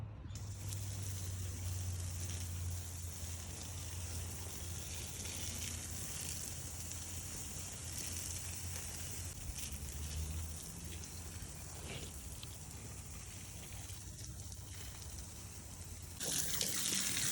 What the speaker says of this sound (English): Now we need to water it.